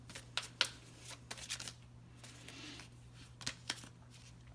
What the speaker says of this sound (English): Let's grab a Star Dragons. A Star Dragons card for this reading.